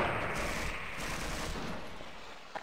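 Burst of gunfire in the video game Half-Life, a dense rapid volley at the start that thins and fades over a couple of seconds, with no talk.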